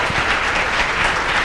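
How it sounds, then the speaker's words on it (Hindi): An audience claps loudly and steadily for a short burst of dense, even applause after an inspirational lecture to students. "एक बार जोरदार तालियां इनके इंस्पिरेशनल लेक्चर के लिए"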